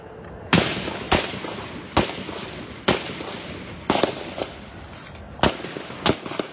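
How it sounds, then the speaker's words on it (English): Gunfire at a congressional baseball practice on a ball field in Alexandria, Virginia: about eight sharp, echoing cracks at irregular intervals over several seconds, with no voices. "The gunman opened fire this morning on Republican members of the House and Senate at a ball field in Alexandria, Virginia"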